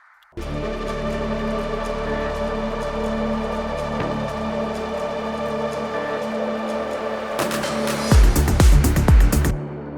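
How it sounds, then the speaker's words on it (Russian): A sustained reversed synth swell from a melodic techno track drones steadily, then builds into a brighter, louder rush near the end before cutting off. "и вот такой вот реверснутый синт."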